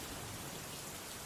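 Steady drizzling rain falling outside at night, a soft continuous hiss of light drops with a faint low rumble beneath, even and unbroken throughout.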